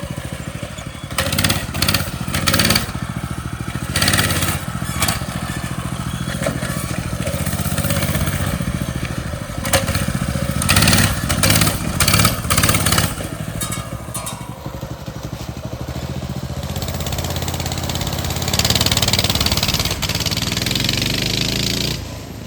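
A mini bike engine with choke on runs loud and close, chugging and revving in uneven bursts before settling into a rougher, steadier idle toward the end.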